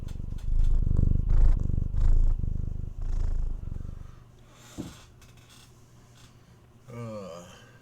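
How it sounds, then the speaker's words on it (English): A cat purrs close to the microphone in a steady, rumbling rhythm that fades after a few seconds into quiet, with a soft bump and a short higher call near the end. "She's my purr bot. She loves to purr."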